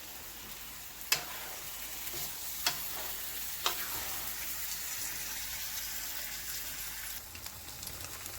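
Vegan chow mein with garlic sauce sizzles in a pan, giving a steady, soft frying hiss broken by a few sharp pops and clicks, with no one talking.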